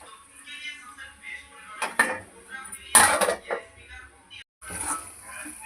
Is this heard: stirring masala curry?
yes